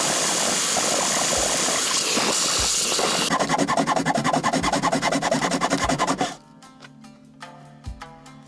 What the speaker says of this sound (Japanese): この金属用のヤスリじゃなかなか削れないですね。